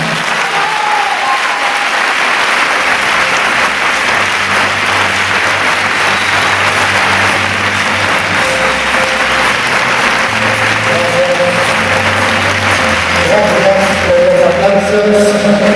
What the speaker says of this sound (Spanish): Os pido un fuerte aplauso para José María González.